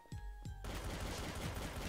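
Gunfire in the video game Trouble in Terrorist Town: two sharp single shots, then a dense, continuous burst of rapid automatic fire, loud and close.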